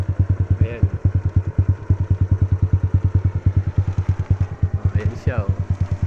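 A motorcycle engine runs close by with a fast, steady pulsing throb throughout, loud and continuous, while voices speak over it.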